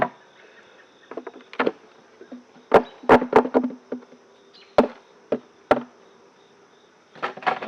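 Honey bees buzz around an opened hive in an apiary, with faint insect hum under scattered sharp knocks and thumps from handling the hive parts, irregular and close.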